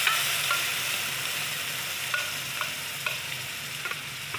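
Curd being stirred into fried onions and oil in a pan with Kashmiri chilli powder for curd brinjal, a steady soft sizzle broken by scattered scraping stirs.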